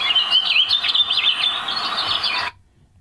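Forest ambience with birds played through a speaker, busy chirping and warbling birdsong that runs steadily and then cuts off abruptly, leaving near silence.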